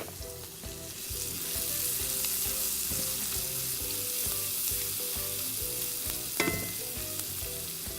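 Shallots sizzle in bacon fat in a hot pan, a steady frying hiss with rhythmic scraping and tossing sounds throughout, close and without talk.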